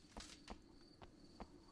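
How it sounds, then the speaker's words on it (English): Footsteps of the player character in the ObsCure survival horror game, four soft, evenly spaced steps over a steady hiss of background ambience, quiet and near. "Maybe it's just my own footsteps."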